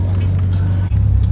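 Steady low engine drone from inside a small car on a hot day, with a brief dip near the end before the hum resumes, loud and close.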